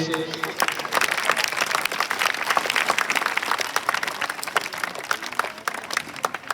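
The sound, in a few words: children applauding at a school farewell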